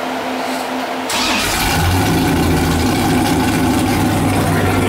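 Off-road race truck with a 440 cubic inch engine and straight pipes, no mufflers, firing up after a quiet moment and settling into a loud, rough, booming idle close by, no voices.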